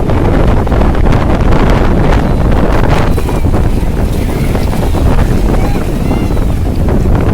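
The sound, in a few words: sea waves on Cox's Bazar beach with wind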